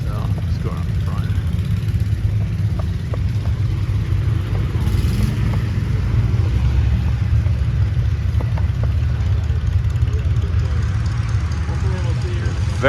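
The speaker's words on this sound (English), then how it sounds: "Check out the Oliver 2255. Beautiful tractor. Got cat diesel." An Oliver 2255 tractor fitted with a Cat diesel engine runs at a tractor show, giving a loud, continuous low rumble throughout with faint background noise.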